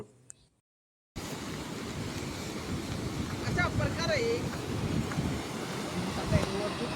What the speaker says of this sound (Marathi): समोरचं पाऊस पण सुरू आहे आणि फक्त तुम्ही हे पाण्याचा आवाज अनुभवा.